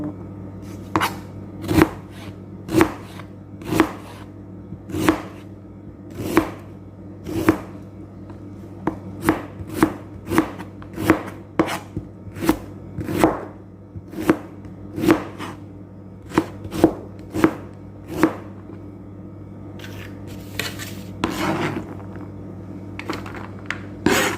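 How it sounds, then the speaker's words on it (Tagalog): An onion is sliced into small pieces with a knife on a board, with close, crisp chops in a steady, brisk rhythm and about thirty strokes with brief pauses. "Ayan po, slicein lang siya ng maliliit po."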